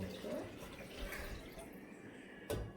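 Tap water runs into a kitchen sink during a brief, soft rinse while making kuih bakar kemboja, with a light splash near the end.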